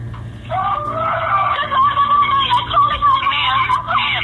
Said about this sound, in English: The screaming you hear in the background is Jennifer's 57-year-old father, Han,